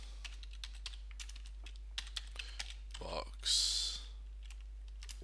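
Computer keyboard typing during an Excel VBA coding session: a light scatter of soft clicks, with a louder hiss-like burst near the end and a voice speaking briefly.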